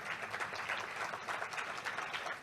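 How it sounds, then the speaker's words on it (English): Sustained audience applause fills a groundbreaking ceremony for the Eternal Gandhi Museum in Houston, a dense, steady wash of many hands clapping at moderate distance with no voices over it. "Big round of applause, please."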